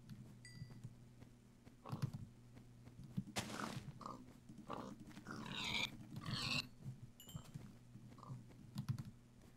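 Pigs in the Minecraft video game, several short grunts and oinks scattered across the stretch, mixed with the clatter of computer keyboard typing and a steady background hum.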